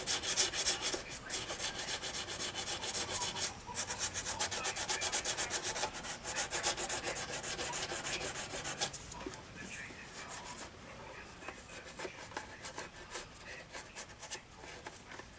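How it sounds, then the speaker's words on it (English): Wood filler being sanded with a sanding board, a dry, rhythmic scraping rub in repeated strokes, close and moderately loud at first and then lighter and more broken up. "I think it's a sanding board."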